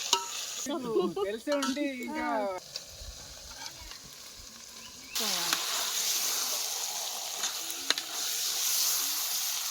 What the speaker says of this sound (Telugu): ఇప్పుడు ఉల్లిగడ్డలు వేస్తానా, పచ్చిమిర్చి వేస్తాను, ఇప్పుడు మసాలా ఐటెం వేస్తానా,